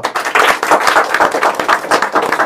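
Hands clap in a quick, uneven burst at a school certificate ceremony of a computer training institute, a few people applauding close by for a couple of seconds without speech.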